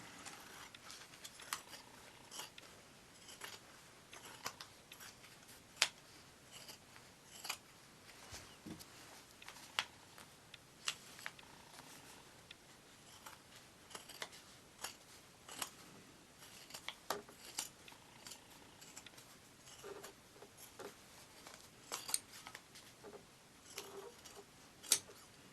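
Scissors cutting fabric for Christmas ornament pattern pieces: faint, quiet snips and clicks recurring irregularly over about twenty-five seconds against a soft background hiss.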